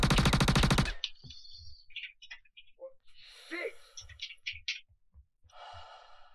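A dense, loud burst of automatic gunfire in Star Citizen rattles for about a second, then gives way to heavy breathing and quiet talk.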